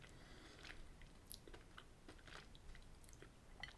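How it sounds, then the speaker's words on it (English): Someone chews Toblerone chocolate with crunchy almond nougat close to the mic, giving quiet, irregular crunching and biting sounds over a faint hiss. "the nougat has got quite good crunch to it"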